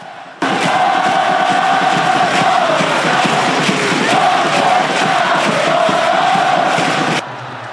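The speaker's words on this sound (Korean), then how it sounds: "오렌지색 복장을 맞춰 입은 강원FC 공식 서포터즈 나르샤의 힘찬 함성이 시작됩니다" Orange-clad Gangwon FC supporters of the Narsha group cheer and chant together in a stadium, a loud sustained roar of massed voices with rising and falling chanted phrases that cuts off abruptly.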